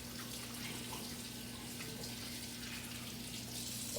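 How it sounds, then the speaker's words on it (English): Tap water runs steadily into a kitchen sink during hand washing, a constant soft splashing hiss over a low electrical hum, with no break from start to end. "Wash my hands."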